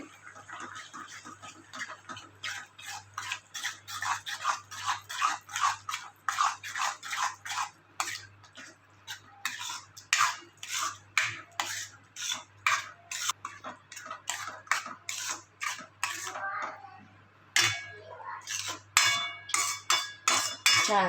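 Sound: spoon stirring crushed brinjal mixture in a pan

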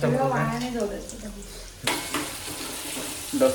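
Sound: frying leftover moong dal khichdi

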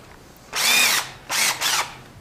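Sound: drill running Malco pole barn steel cutting tool

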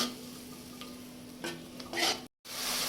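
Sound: spices being sautéed in a pan for chicken bhuna

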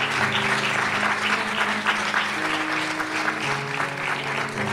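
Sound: audience applause

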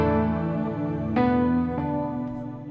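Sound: Netherworld's piano preset in Nexus plugin

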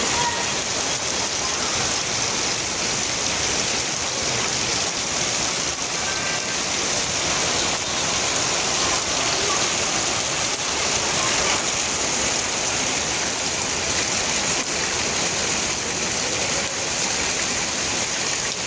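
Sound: heavy rain pouring in a village

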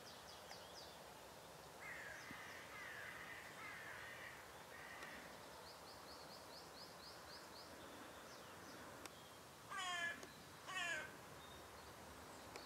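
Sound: crows cawing

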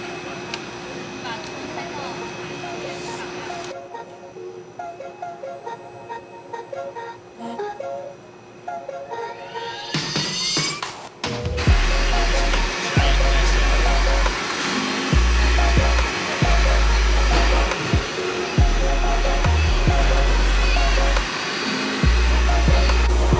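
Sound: concrete 3D printer printing a wall

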